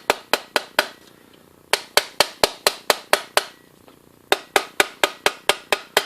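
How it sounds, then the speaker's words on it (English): Sharp, ringing plastic hammer strikes on a joint of a carpet cleaner, landing in quick regular bursts of four to eight blows separated by short pauses. "We're going to take the plastic hammer and strike it."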